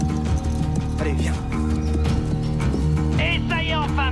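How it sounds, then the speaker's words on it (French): Hooves clip-clop as a jockey arrives on a German horse. Light rhythmic steps sit under a busy mix of music and speech, and a brief whinny-like sound is heard near the end. "le jockey numéro 4 vient d'arriver. Il monte un super cheval allemand."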